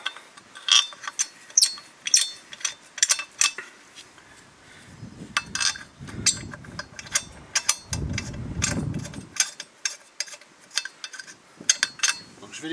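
Wheel studs on a Renault Scénic 2 being tightened lightly with a ratchet, rapid close clicking in repeated bursts with a couple of low rumbling thuds midway, no talk.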